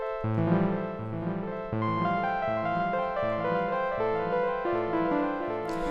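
A sustained synth chord sequence through a fully wet dotted delay, echoing repeats smearing between notes, steady and fairly quiet, with no voices.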